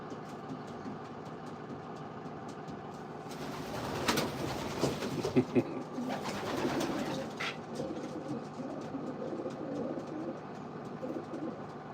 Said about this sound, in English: Yep, these are racing pigeons, Lisa.